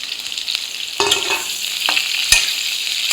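Chopped onions tossed into hot oil for an egg fry masala, a loud steady sizzle and crackle with a few scraping stirs, close up and continuous.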